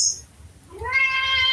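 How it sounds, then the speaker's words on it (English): A pet cat named Cygnus gives one clear, close meow that rises and then holds, following a brief high chirp, with no talking. "My cat Cygnus says that within us lies the deeper truth."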